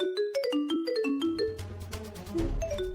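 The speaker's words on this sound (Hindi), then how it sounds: "ये फोन किसका बज रहा है?" A bright electronic ringtone melody of quick chiming notes plays, followed by a low rumbling noise near the end; no one speaks.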